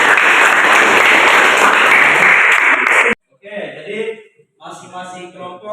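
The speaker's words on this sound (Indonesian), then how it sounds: "kita berikan tepuk tangan untuk kelompok 2" Students in a classroom clap loudly for a group for about three seconds. The applause stops abruptly, and a voice begins talking.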